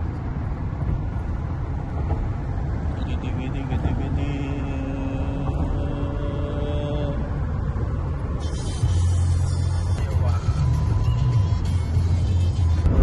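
A car driving along a road in a little Midwest town in Iowa, a steady loud broadband rumble of engine and tyre noise lasting throughout, growing slightly louder toward the end.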